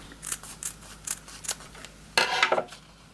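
Scissors snip through ribbon ends at a diagonal for a hair bow, giving a run of light, crisp close snips followed by a louder, longer rasping cut near the end.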